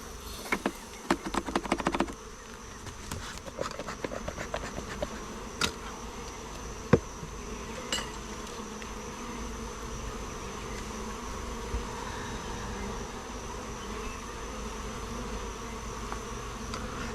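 Bees buzz steadily around a yard of beehives in late June, a dense continuous hum close by, with a few clicks and knocks near the start and no talking.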